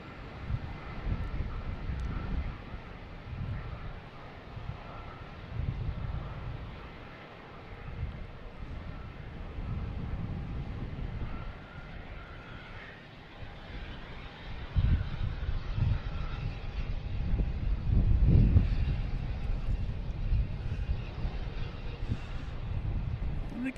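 An American Airlines jet operated by Republic Airlines arrives at Boston Logan Airport on a snowy day, its engine roar a broad, steady rumble blended with wind noise, swelling louder around the middle.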